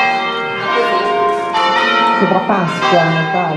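Church bells ring out during a bell-festival concert in Italy, loud, overlapping tolls with a voice speaking over them.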